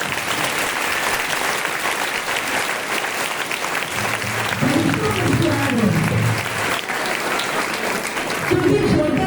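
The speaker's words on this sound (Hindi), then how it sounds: "मैं आप सबों से एक जोरदार ताली चाहूंगी।" Enthusiastic audience applause fills a Christmas church service, a dense sustained clapping throughout with voices speaking over it partway through.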